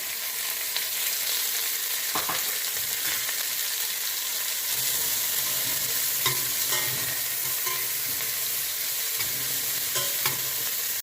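Sliced big onion frying in oil in a pan for ash gourd curry, a continuous close sizzle with occasional scrapes and knocks of a spoon stirring it.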